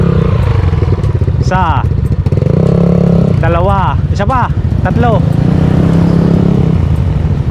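Two scooters, a Yamaha Aerox 155 and a Suzuki Skydrive 160cc, run with a steady close engine drone beneath loud, continuous talk and counting.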